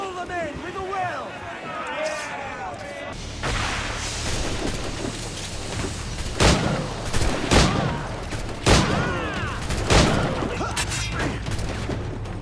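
Ship cannons fire in a broadside battle in the pirate game Assassin's Creed IV Black Flag, with several loud booming volleys from about 3 seconds on. Shouting voices and other battle noise run underneath.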